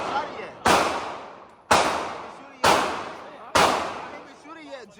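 Gunshots at an outdoor shooting range: four loud, sharp reports spaced about a second apart, each trailing off in a long echoing decay.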